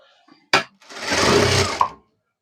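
A sewing machine stitches a salwar patiala pant in one short close burst of about a second of whirring, preceded by a brief click, then silence.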